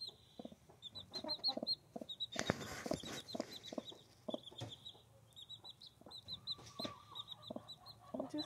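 A mother hen clucks softly and repeatedly to her chicks in low, rhythmic murmurs while the chicks peep in high, steady chirps close by.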